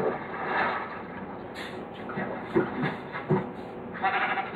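Sheep bleating in the Minecraft video game, a few short, fairly loud bleats standing out over a steady background, with no talk over them.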